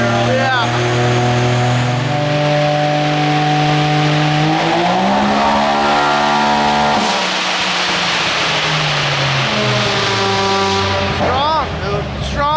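A turbocharged Can-Am Maverick X3 (360 hp) accelerates hard in a pull, engine pitch climbing steadily through gears with brief shift dips, loud and close, with voices talking over it.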